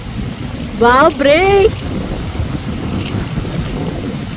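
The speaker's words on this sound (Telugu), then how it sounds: "ఒక పక్క సూర్యుడు, ఒక పక్క వర్షం, గాలి, మామూలు కాంబినేషన్ కాదు." Rain and gusting wind outdoors near a railway station in Chhattisgarh on a sunny day, a steady broadband wash and rumble running throughout, briefly overlaid by a short spoken word.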